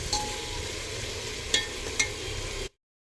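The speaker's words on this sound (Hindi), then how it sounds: "सभी चीज़ों को अच्छे से मिक्स कर देती हूँ और 2 मिनट तक अच्छे से और पका लेती हूँ।" Vegetables with red chilli powder and turmeric cooking in a pan give a close, steady sizzle with a few brief stirring clinks, lasting under three seconds before cutting to silence.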